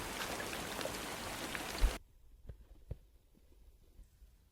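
Irrigation water from a borewell flowing into a rice paddy field on a farm with coconut trees, a steady broadband wash for about two seconds that cuts off, leaving only faint scattered drips and splashes.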